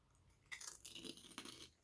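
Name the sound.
biting into a large Bugle-like corn snack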